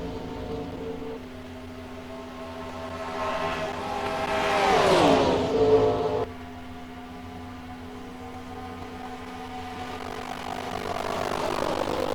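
Stock race cars at the 2005 Coca-Cola 600 accelerate through the gears after a restart: a loud engine roar rises and sweeps past with a falling pitch, then steady droning engines from the pack continue in the background.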